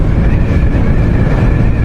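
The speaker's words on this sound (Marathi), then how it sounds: "एकदम मस्त थंड गार वारा लागतो एवढा उन्हाचा पण." Cool wind rushes over the microphone on a moving motorbike, a loud, constant low roar and buffeting that fills the whole short stretch with no speech.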